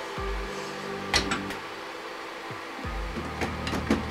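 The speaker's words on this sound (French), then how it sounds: "ce bac là que je remets sur l'imprimante" A plastic UV resin tray set back onto a resin 3D printer, giving several dull, low clunks and knocks spread over a few seconds, close by in a quiet room.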